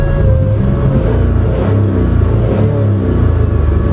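A 1986 Lesharo RV engine running during a road test, a loud, continuous mid-pitched engine hum with shifting revs and road rumble heard from inside, no talking.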